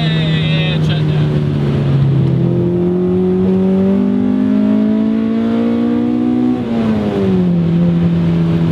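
Small car engine revving hard through the gears, climbing pitch that drops at each shift, steady and close, with voices talking over it.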